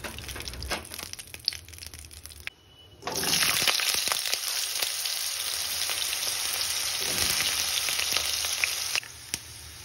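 Vegetables sizzling and frying in a pan for a Bengali vegetarian chorchori, a quieter stir at first, then a loud, steady hiss with occasional clinks of a utensil.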